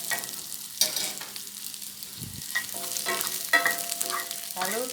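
Onion and spring onion are sautéed with browned garlic in a pan, with soft sizzling under repeated scraping and stirring of a utensil against the pan.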